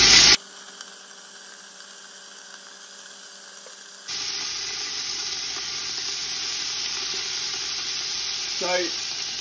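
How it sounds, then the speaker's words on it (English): Beef mince searing in rapeseed oil in a pan over high heat, a steady loud broadband sizzle that jumps louder partway through and holds, with a brief clatter near the end. "pan on quite a high heat when you're searing the mince"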